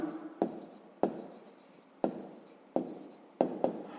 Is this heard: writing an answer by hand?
yes